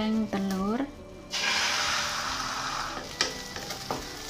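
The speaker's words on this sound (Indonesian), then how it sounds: "Setelah minyak panas, goreng telur." An egg hits hot oil in a pan and sets off a loud, steady sizzle and crackle that keeps going. A short voice and a few clicks come just before it.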